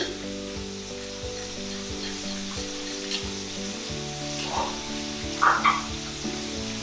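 Pineapple and onion frying in a pan for a sweet-and-sour whole fish, a soft steady sizzle over background music with a few stirring clatters toward the end and no talking.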